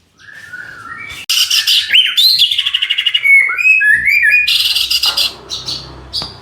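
A pet songbird sings loudly and close, pouring out rapid chirps, whistled slides and trills in quick varied phrases with no talk.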